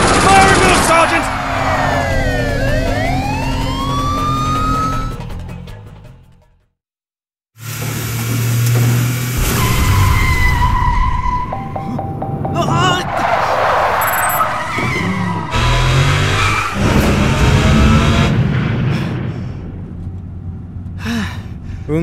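Car tires squeal and an engine revs during a fast, reckless drive in the Binary Domain video game, loud and continuous, broken by a brief silence, with voices speaking over the driving noise at times.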